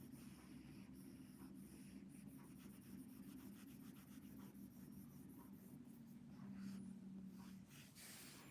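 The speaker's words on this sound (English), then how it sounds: "just filling it in by hand with a pencil" Pencil shading worked by hand across paper while drawing a dragon, a steady close scratchy rubbing that runs on continuously and faintly, swelling a little near the end.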